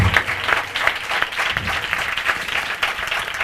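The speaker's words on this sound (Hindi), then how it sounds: "ताली बजा के धन्यवाद बोलो ना।" A church congregation at a Hindi-language Christian service on the resurrection claps together in sustained, dense applause that stays fairly loud and even for the whole stretch, with no clear speech over it.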